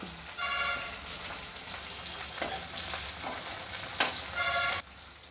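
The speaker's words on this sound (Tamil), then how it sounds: "போட்டு நல்லா அப்படியே அதில் பொரியட்டும் எண்ணெயிலே பொரிஞ்சிட்ருக்கட்டும்" Dried cluster bean vathal fries in hot oil, giving a continuous close sizzle and crackle with brief stirring scrapes and small spattering pops.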